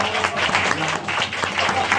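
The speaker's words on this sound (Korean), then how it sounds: "다시 한번 박수." An indoor audience at a Korean film screening gives a steady burst of clapping at moderate volume, with a little voice mixed in.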